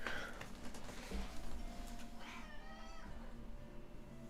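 A pet cat named Munchie gives a couple of quiet meows indoors, brief and close, against a low steady background hum.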